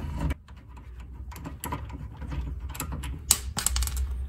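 Ratcheting mechanical clicks and metal-on-metal turning as an outer tie rod end is screwed onto a VW Mk3, close and steady with a few sharper clacks and no speech.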